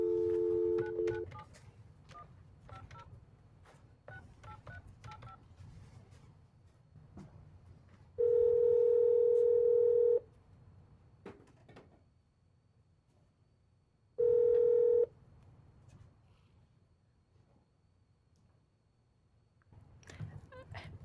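Telephone keypad tones dial out to call a remote meeting participant named Steph, followed by two separate sustained dial-tone bursts, several seconds each, clear and steady over a quiet room hum.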